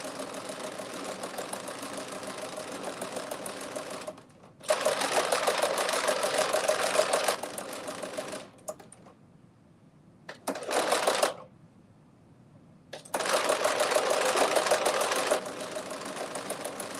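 A sewing machine fitted with a ruffle gathering foot runs in three loud, fast bursts of rapid stitching, separated by short pauses of near silence and quiet mechanical clicks.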